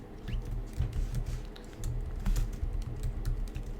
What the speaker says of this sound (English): in my body I'm going to type something inside div and close it with \div